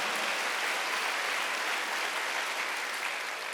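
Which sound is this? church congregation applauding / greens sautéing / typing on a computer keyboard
church congregation applauding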